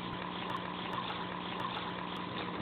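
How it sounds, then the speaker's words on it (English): A water pump runs steadily as it pushes water through a coil buried in a compost pile for greenhouse heating, giving a continuous whirring, rushing hum with faint ticks on top. "what we've got here is the pump"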